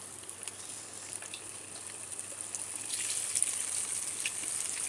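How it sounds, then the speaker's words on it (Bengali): A whole hilsa fish hits hot oil and fries in a steady, close, broadband sizzle that swells slightly louder toward the end, in a Mawa-ghat-style hilsa fry. "তো আমার তেলটা গরম হয়ে গিয়েছে এবার আমি আজ আস্ত ইলিশ মাছ দিয়ে দেবো"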